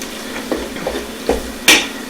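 Butter chicken sauce with garam masala stirred in a pan with a spoon, giving a few soft scraping knocks over a low steady simmer, closing with one sharper clatter.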